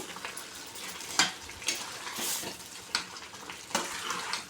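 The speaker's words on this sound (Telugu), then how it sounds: "ఒకసారి ఇదంతా కలుపుకోవాలి కలుపుకున్నాక ఒక్క నిమిషం మాత్రమే ఉడకనిద్దాము" Egg semiya upma being stirred in a pan, a steady soft sizzle broken by repeated scraping strokes of a spoon, close and fairly quiet with no voices.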